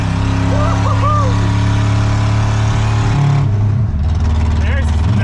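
Junkyard Chevy Impala wagon with straight pipes, engine running rough on about three cylinders, a loud close droning rumble that drops and shifts pitch as it changes gear, with people talking over it.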